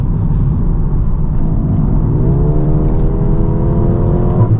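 A 2024 Mercedes A35 AMG engine hums steadily inside the cabin in Sport Plus mode, then its tone climbs smoothly as it accelerates through the gears, with rumble from uneven roads underneath throughout.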